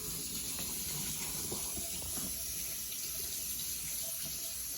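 Cold water runs from a tap to soak cake pan strips, a steady close hiss of flowing water with faint clinks underneath and no talk.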